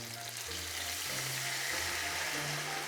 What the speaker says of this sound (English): we need to pour some wine